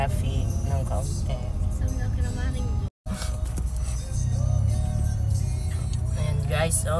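Inside a car moving slowly through light traffic, a steady low engine rumble and road hum carry on throughout, with voices talking over it.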